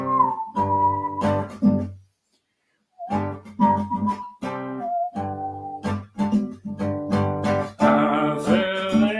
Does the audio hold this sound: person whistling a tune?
yes